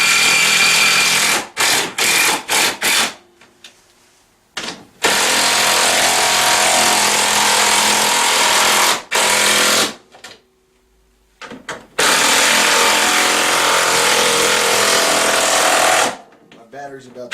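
A battery power tool tightens the rear rack bolts on a Tao Tao CY150A scooter in loud, sustained bursts of rattling impact noise, three main runs separated by short pauses, close to the microphone.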